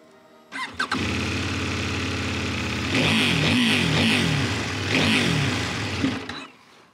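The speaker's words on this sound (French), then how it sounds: "pour un échappement de série sur une moto pas trop dispendieuse, c'est étonnant et c'est plaisant" A CFMOTO 800-class motorcycle with its stock exhaust starts up and settles into a deep, rumbling idle, then revs twice, each rising and falling, before shutting off. Close and loud, with no talking.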